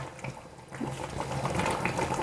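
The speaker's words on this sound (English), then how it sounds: "Gently stir." Catfish stew with onions and curry leaves being gently stirred in a pot, a soft wet sloshing and bubbling with faint spoon scrapes, close and quiet, heard alone.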